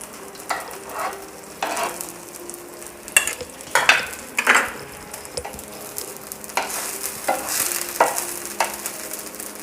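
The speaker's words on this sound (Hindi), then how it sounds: "तो ये मेरा तवा है वो गर्म हो गया है और मैंने ये पॉकेट पराठा है वो ऊपर डाल दिया है।" A vegetable pocket paratha cooks on a hot tawa, giving a low sizzle with bursts of scraping and stirring noise from a utensil, intermittent and close, with no voices.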